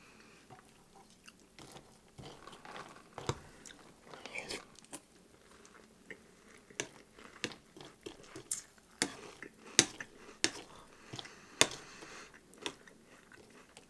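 Crunchy Banana Caramel Cheerios cereal being chewed close up, a run of crisp, irregular crunches that grow louder and more frequent, with faint moist mouth sounds between bites and no talk.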